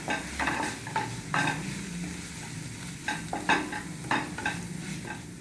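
Ketchup and masala mixture sizzles in a hot pan for butter masala bread toast while a spoon scrapes and taps through it in irregular strokes, close up and moderately loud, with no talking.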